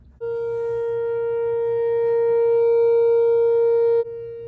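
A tornado siren under test sounds a single sustained, steady wail that swells slowly in loudness for about four seconds before cutting off abruptly, alone with no talk.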